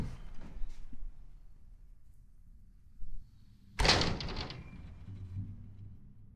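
A door at the Walsh Street House, a 1958 Robin Boyd design in Melbourne, opens with a soft knock followed by a loud scraping clatter and a brief rattle, then quiet room tone.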